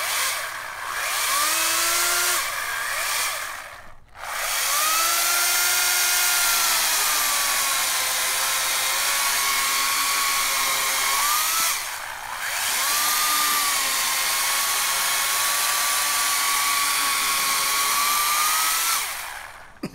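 A 14.5 amp electric chainsaw runs at full whine powered from an Ecoflow Delta 1300 power station, loud and close, its pitch sagging and rising as it cuts, with brief stops near the start and middle.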